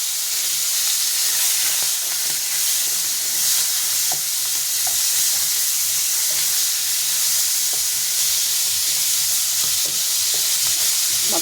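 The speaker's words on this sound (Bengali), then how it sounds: "তেলটা গরম হয়ে গেছে, দিয়ে দেবো আমি মাছের মাথাটা।" Fish head frying in hot oil on a lowered gas flame, a steady close sizzle and hiss holding throughout with faint pops and crackles scattered over it.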